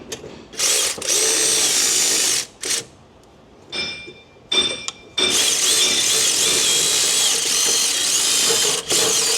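A gigantically long electric ratchet with a low-profile socket, working on the tensioner of a Honda 3.5 engine, whirs in loud close bursts of varying length, separated by short pauses.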